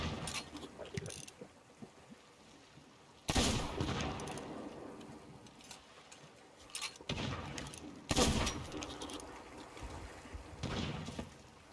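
Bursts of gunfire and clattering mechanical noise in a pirate video game, with sharp loud volleys near 3 and 8 seconds standing out over quieter background clatter.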